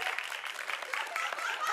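A studio audience applauds steadily, a dense, continuous wash of clapping at moderate level from start to finish.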